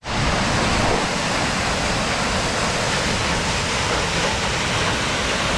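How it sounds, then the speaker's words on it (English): A powerful waterfall in the Lost Waterfalls area of Boquete, Panama, roaring as loud, dense, unbroken white noise from close range, steady throughout with no voices. "That's a lot of water, and that's a powerful waterfall right there."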